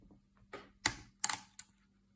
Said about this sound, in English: I place my thumb on top of the bolt catcher's spring right here to keep it firmly in place while I remove the valve chamber